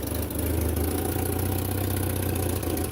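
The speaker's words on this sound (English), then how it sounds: "there's a huge exhaust leak again out the back" A 1985 BMW 318i E30 idles steadily with an exhaust leak at the back, a loud, close, continuous low engine rumble with a rough, puffing edge and no talking.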